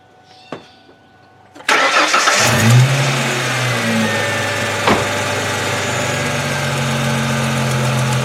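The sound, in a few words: 2002 Ford Mustang 3.8 V6 engine idling during engine flush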